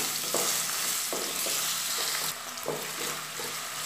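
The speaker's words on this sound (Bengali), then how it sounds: "আলুটা দিয়ে একটু নাড়াচাড়া করে দেব।" Small cut potato pieces sizzle loudly in a hot pan while being stirred, with steady frying hiss and repeated scraping strokes about every second, close and with no talking.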